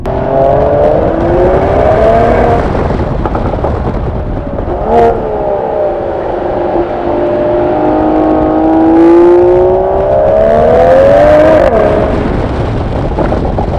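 A heavy SUV's six-cylinder engine revs hard in sport mode, its loud, steady roar rising and falling through several throttle swells with one sharp blip midway, close and continuous with no talking.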